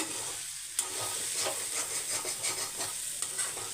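Vegetables sizzle and fry in a kadai while a utensil scrapes and stirs them in repeated strokes, with a sharp clink near the start.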